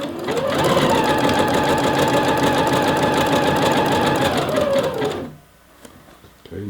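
A sewing machine runs loud and close while sewing an elastic waistband, a steady, fast whirring stitch for about five seconds that stops abruptly and leaves near silence.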